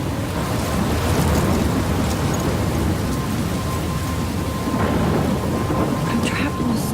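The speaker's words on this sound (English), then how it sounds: "I'm trapped in a storm?" A video game thunderstorm in Life is Strange, with heavy steady rain and deep rumbling thunder filling the scene, loud and continuous with occasional sharper crackles.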